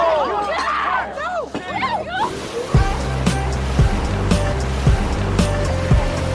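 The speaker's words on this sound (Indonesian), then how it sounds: "Ben pun langsung mencemplungkan dirinya ke laut" Sea water surges and splashes as a man plunges into the ocean in a film scene; a voice is heard at first, then steady surf noise with several heavy low thumps of water follows close and loud.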